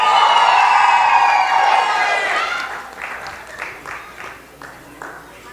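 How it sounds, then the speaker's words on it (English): An audience at a city council meeting in Paterson, New Jersey breaks into applause and a few cheers, loud at first and then thinning into scattered claps. "Let's clap for her."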